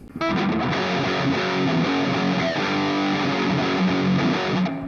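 Heavily distorted electric guitar plays through a practice amp's Mark V distortion model, thick and loud, with sustained chords and riffs.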